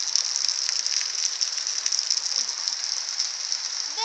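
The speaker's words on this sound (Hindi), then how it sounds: "ये यहाँ पे पहली मानसून की बारिश है, तो उसके साथ कैसे नाले चले हुए हैं।" First monsoon rain over Manjheda, with runoff streams flowing, makes a steady, dense hiss of rain and rushing water that stays close and even throughout.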